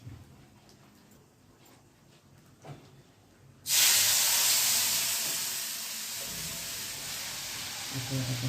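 Asafoetida (hing) hits hot oil with curry leaves and dried red chillies for a Gujarati tempering. After quiet rustling, a sudden loud, close hiss bursts out and slowly fades into a steady sizzle.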